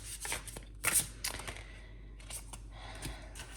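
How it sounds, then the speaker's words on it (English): Oracle cards are shuffled close by in quiet, a run of soft papery riffles and flicks in irregular bursts, with a sharper snap near the first second. "I'm going to pull some oracle cards for you first of all"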